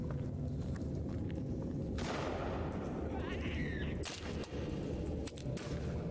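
Gunfire in the survival game Sons of the Forest, dense rumbling shots and blasts filling the whole stretch, with a loud burst midway and another near the end.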